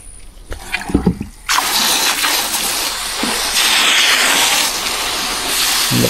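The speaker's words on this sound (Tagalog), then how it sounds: "Ang lakas ng tubig." Strong floodwater rushes in a loud, continuous roar close by, after a few moments of quieter sounds at the start.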